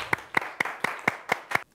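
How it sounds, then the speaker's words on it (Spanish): Seven sharp, evenly spaced claps in quick rhythm, close and distinct rather than a crowd's applause, ending suddenly. "Un aplauso para ellos."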